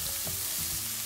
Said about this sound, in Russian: Немного обжарим, около 2 минут